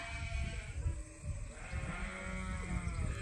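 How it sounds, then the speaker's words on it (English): Sheep bleat repeatedly inside a barn, several overlapping voices calling close by over a steady background hum. "trying to get these sheep out of the barn"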